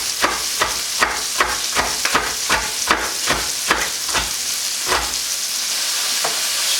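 A knife chops repeatedly through tough cooked bacon on a board, sharp regular knocks roughly twice a second over a constant background sizzle from the pan, close and loud with no speech.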